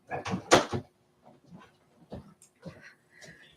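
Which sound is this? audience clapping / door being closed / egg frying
door being closed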